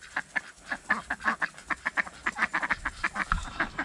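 Ducks quack in a rapid, overlapping chorus, close by and fairly loud, the calls tumbling over one another without pause.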